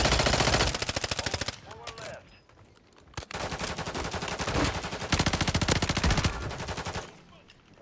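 Rapid automatic gunfire in a video-game battle, long rattling bursts of closely spaced shots with short pauses between them and a sharp single crack near the middle, loud throughout, with voices talking faintly underneath.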